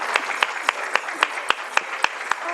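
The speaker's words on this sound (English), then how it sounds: "So one more round of applause for them." Steady, evenly spaced claps at an International Women's Day summit, about four per second, close and moderately loud, forming a small round of applause for the speakers.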